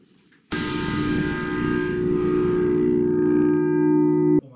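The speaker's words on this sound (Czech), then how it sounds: "Zvuk dvoutunového zvonu Marie z roku 1561, který visí v kapli svatého Jana a Pavla" The two-tone bell Marie, cast in 1561 and hanging in the chapel of Saints John and Paul in the village of Dobrš, strikes once sharply and then rings on as a loud, sustained, humming tone that cuts off abruptly.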